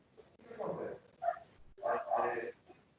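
A dog barks and yips in the background of a participant's online call, several short muffled barks mixed in with a person talking over them.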